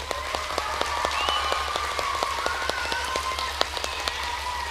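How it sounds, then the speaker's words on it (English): An elementary school assembly audience applauds for a class being recognized, a steady, dense clapping of many hands filling the room at even loudness with no talking. "so now let's give Miss Davis's class a round of applause"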